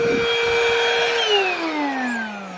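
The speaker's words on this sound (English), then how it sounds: "Wow, that is a terrible vacuum" A weak vacuum cleaner running inside a car's interior, giving a steady close-up whine whose pitch sags noticeably partway through, heard alone without talk.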